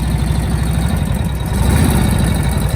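A Harley Davidson motorcycle engine idles steadily while warming up in a shop, with a continuous low, loping rumble that stays loud and close throughout, and no speech.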